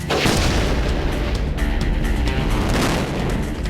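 A car blown up by an explosion during a Mythbusters test: a loud, roaring blast that fills the whole clip with a sustained rumble and crackling, with no voices.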